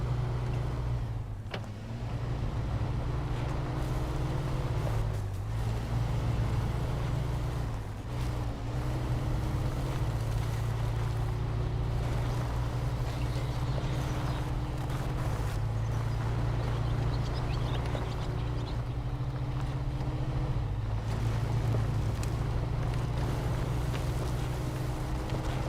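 Steady, loud engine drone of a scout vehicle in the off-road driving game SnowRunner, a low continuous rumble holding for the whole stretch with small dips in pitch as it shifts and labors, no talk over it.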